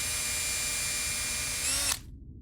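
A power drill whines steadily up close as it drives a screw in an ASMR roleplay, its pitch rising briefly before it cuts off abruptly, leaving faint background.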